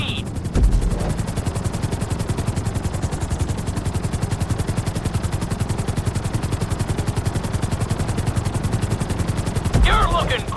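A helicopter in the video game GTA V, flying a marked course as a steady, rapid rotor chop that pulses evenly and loudly throughout, with brief voice fragments at the start and end.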